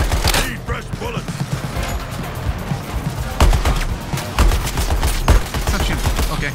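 Rapid bursts of gunfire crackle through a chaotic fight in Suicide Squad Kill the Justice League, dense repeated shots layered with explosions and game noise, while a person talks over the action.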